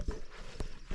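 On a steep trail descending from the Quilotoa crater rim in Ecuador, hooves of a horse or donkey clop in a few distinct, spaced strikes amid steady wind and outdoor noise.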